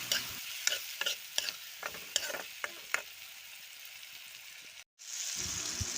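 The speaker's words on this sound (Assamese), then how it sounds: "মই বিলাহীখিনি ভাজি লম" Tomatoes frying in a pan at a village-style home cooking session for a small-fish dish, stirred with repeated scraping strokes over a steady close sizzle, with a brief silent break near the end.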